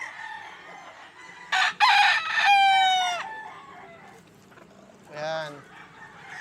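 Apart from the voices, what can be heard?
rooster crowing and chickens clucking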